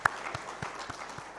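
Sparse applause at an indigenous food and seed fair, a few distinct claps spaced roughly evenly apart over a quiet room, fairly faint.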